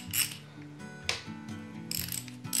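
A ratchet undoes a bolt on a Morris Minor engine during dismantling, giving steady, close, repeated pawl clicking in short strokes with no talk.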